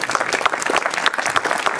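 An audience at an awards evening for the Premio Ortega 2017 claps steadily, a dense, even patter of many hands close by with no talk over it.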